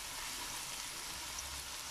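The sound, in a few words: whole spices sizzling in a pan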